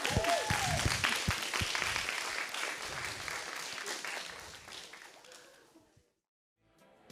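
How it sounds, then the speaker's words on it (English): Audience applause at a Pride PechaKucha Night, a loud burst of many clapping hands with some whoops, fading gradually into near silence before a faint sound returns at the end. "But a round of applause for Lina."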